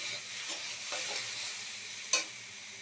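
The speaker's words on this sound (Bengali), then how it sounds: "এইভাবে লাল লাল করে ভেজে নিতে হবে।" Okra and potato with turmeric fry in a pan with a soft, steady sizzle and hiss, a few gentle stirring strokes, and one sharper clink near the end, fairly quiet with no talk.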